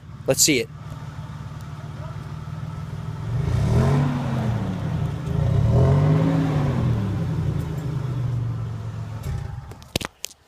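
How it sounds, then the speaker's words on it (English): Car engine revving from an inefficient car, two swelling revs rising and falling over a steady idle drone, recorded at a distance, with brief talk at the start. "here's an example of a hooligan revving his engine"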